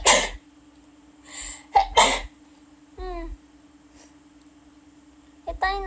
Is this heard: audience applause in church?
no